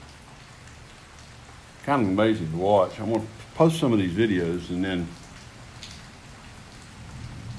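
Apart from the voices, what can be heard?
rain falling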